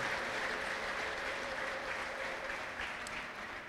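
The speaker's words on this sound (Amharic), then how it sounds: "እስቲ ለጌታ ክብር አጨብጭቡ" A church congregation claps in worship, a thick, continuous wash of applause that stays loud and even throughout, heard from within the crowd.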